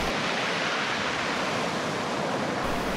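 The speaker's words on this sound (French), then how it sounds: "L'océan chasse ces vagues, souvent comme des rouleaux, qui peuvent emporter des touristes imprudents." Ocean waves breaking on the Icelandic coast, heard as a steady, loud wash of surf with no distinct individual crashes, continuous for the full stretch.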